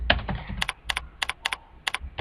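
Fingers tap quickly on a computer keyboard while entering a search in a database program, a close, crisp run of a dozen or so clicks in uneven bursts.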